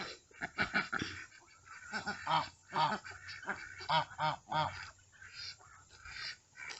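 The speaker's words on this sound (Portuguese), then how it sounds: "O outro ganso chegou atropelando os 2." Geese honk repeatedly in quick, overlapping bursts, close and loud, as one goose rushes in among two others on a farm, a busy run of calls with short pauses between.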